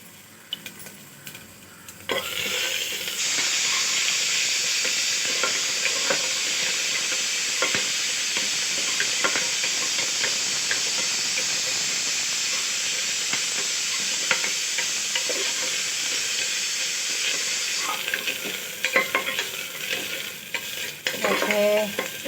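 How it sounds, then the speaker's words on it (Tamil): Ginger garlic paste sautéing in a pan for vegetable biryani gives a steady, loud sizzle and hiss with occasional scraping stirs, starting abruptly and easing near the end. "இப்போ இஞ்சி பூண்டு பேஸ்ட்டு வதங்கிடுச்சு."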